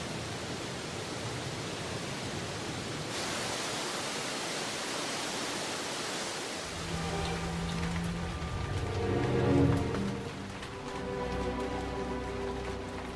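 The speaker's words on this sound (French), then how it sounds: "Les chutes de la cascade Niagara n'ont sans doute jamais été aussi belles" The Niagara waterfall cascade on Réunion, swollen after Cyclone Dina, roars as a loud, steady broadband rush of falling water with no break, and a murmur of background activity comes in later.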